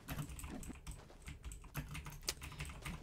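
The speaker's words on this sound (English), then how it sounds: "Is that about my keyboard? I know it's very loud." Loud computer keyboard typing, a dense run of sharp clattering keystrokes continuing throughout at close range, with no voices over it.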